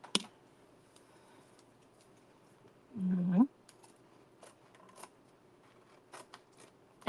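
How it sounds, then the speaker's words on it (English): A single short snip of scissors cuts through canvas, amid quiet ticks and small clicks of handling in a still room. "but I am going to get my scissors."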